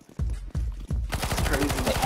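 A PP Bizon submachine gun firing in CS:GO, a few separate shots at first, then a rapid sustained automatic burst, loud and close.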